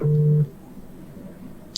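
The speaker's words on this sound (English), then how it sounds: "It's ringing now." A phone ringback tone on an outgoing call sounds for a short burst, then stops, leaving quiet line hiss with a faint click at the end.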